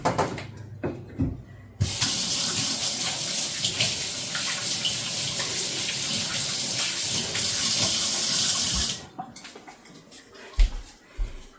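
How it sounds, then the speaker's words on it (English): Kitchen tap water running steadily for about seven seconds while hands are washed before making meatloaf, with handling noises and faint clatter before and after the flow. "So what I'm going to do right now, I'm going to wash my hands again"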